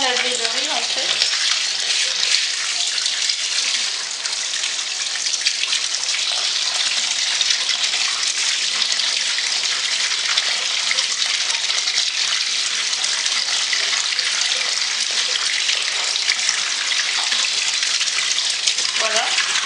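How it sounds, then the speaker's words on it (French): Rice is washed under running water, a continuous splashing gush like a tap filling a basin that stays steady and fairly loud throughout. "J'ai lavé mon riz comme vous voyez ici."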